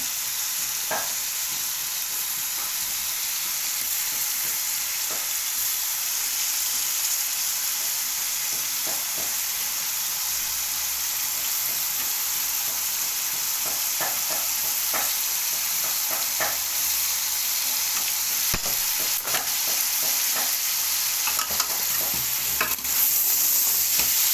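Tomatoes fry with chicken and mixed vegetables for a pulao, giving a steady close sizzle and hiss throughout, with faint stirring clicks and no talk.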